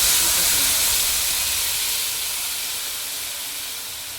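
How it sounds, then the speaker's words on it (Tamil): Tamarind water poured into a hot pan sizzles with a loud, steady steam-like hiss that slowly fades over a few seconds, with no voices over it. "புளி தண்ணி ஊற்றிக்கணும் தேவையான அளவு."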